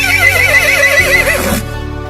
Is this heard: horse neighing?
yes